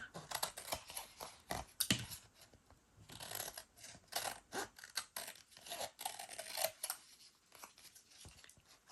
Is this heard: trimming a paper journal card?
yes